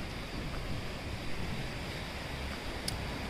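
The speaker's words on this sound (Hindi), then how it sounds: "पानी की आवाज़ आ रही होगी आपको बहते हुए पानी की" Flowing water rushes in a steady, broadband wash with no breaks, quiet and distant, heard outdoors in Dehradun, Uttarakhand.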